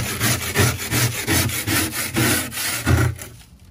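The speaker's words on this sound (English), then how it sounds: "Now we're gonna try to scrape some of this down." Plastic scraper rubbing across frost built up inside a small deep freezer, a steady series of rhythmic scraping strokes close by with no talking.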